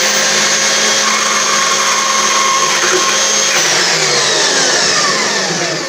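A Vevor portable bandsaw cuts through a clamped metal tube, a loud, steady whining drone that holds evenly throughout and eases slightly at the end as the cut finishes.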